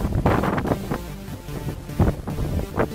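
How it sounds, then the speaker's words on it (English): Strong wind on the summit of Mt Dromedary in Tasmania buffets the microphone in loud, rumbling gusts that swell and ease over a few seconds, with no voices. "pretty damn windy."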